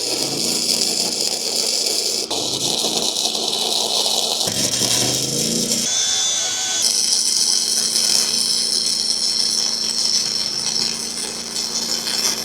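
Tack welding a rear hanger onto a Southland dump trailer, a steady loud crackling hiss of the arc with several short welds separated by brief shifts in tone.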